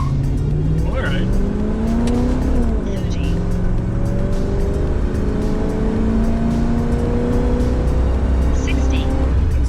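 A 1986 Pontiac Trans Am with low power and the air conditioning off pulls hard from a standstill to 60, engine note climbing steadily through the gears with a brief shift dip, loud and close from inside the cabin, with voices over it.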